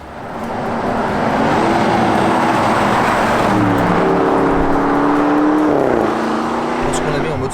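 A Porsche Cayenne Turbo S hybrid SUV drives at steady speed, with engine and road noise that rises and shifts as the gears change, heard from inside the cabin beneath continuous talk.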